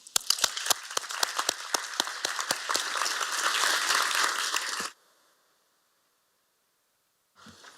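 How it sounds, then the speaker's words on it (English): Round of applause at a municipal council meeting in Chatham-Kent, a room of hands clapping steadily for about five seconds, then cutting off into near silence before a brief faint rustle. "offer a great round of applause"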